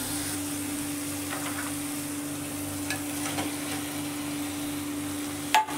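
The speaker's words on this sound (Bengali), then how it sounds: "এগুলো দিয়ে আর 10 মিনিট নেড়ে চেড়ে কষে নেব।" Fried potatoes and eggplant stir-fried in a spice masala, giving a steady close sizzle with faint scraping stirs and a sharp clatter near the end.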